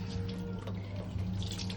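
A face being washed under running tap water, a close and steady splashing stream with small drips, heard alone with no talking.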